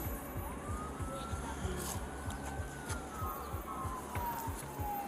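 An ambulance siren wails steadily at a distance, its rising and falling tone carried over a constant low rumble with a rhythmic thumping pulse, no talk during it.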